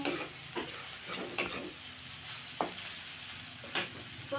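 Chopped onion and garlic sizzle quietly in a pan while a spoon stirs them, with several distinct scraping knocks against the pan over a low, steady fry.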